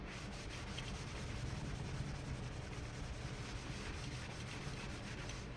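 A Scotch-Brite pad scuff-sands a Tele-style partscaster guitar body between coats of polyurethane, producing a steady, close, continuous abrasive rubbing hiss with no pauses.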